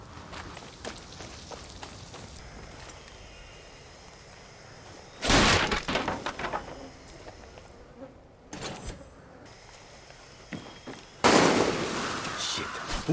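Distant gunfire in a post-apocalyptic shooter game breaks out in two loud bursts of sharp reports against a quiet, buzzy ambient background.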